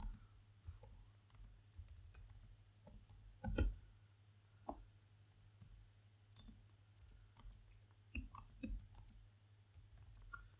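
Someone types code on a computer keyboard, giving soft, scattered clicks and taps at an irregular pace. The sound is quiet, with a low steady hum underneath.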